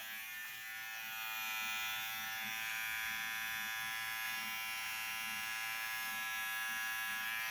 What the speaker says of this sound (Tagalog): Itong BGR na electric shaver ko, matipid lang sa kuryente, good pa ang quality.